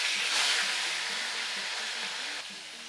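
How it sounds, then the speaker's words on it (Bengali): Rui fish pieces dropped into hot salted oil in a wok, a broad steady hiss of frying that swells early and then holds evenly, close and fairly loud with no voices. "তেল গরম হয়ে গিয়েছে, তেলের মধ্যে এখন দেবো অল্প পরিমাণে লবণ। লবণ দিয়ে খুব ভালোভাবে পুরো কড়ার মধ্যে তেলটাকে লাগিয়ে নেব। এই সময় এর মধ্যে দেবো রুই মাছের পিস।"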